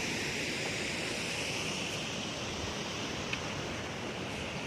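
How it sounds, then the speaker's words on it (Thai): A steady, rushing roar of falling water continues evenly throughout from a nearby waterfall at Phon Lao weir, Erawan district, Loei, Thailand. "ได้ยินเสียงน้ำตกอันนี้"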